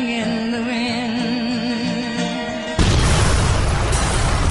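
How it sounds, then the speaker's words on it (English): A movie explosion goes off a few feet away: a sustained tonal passage cuts abruptly into a loud, dense roaring blast that fills the sound and holds steady to the end. "The explosion just a few feet away."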